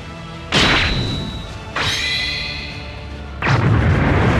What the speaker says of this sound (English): As an explosion erupts in the distance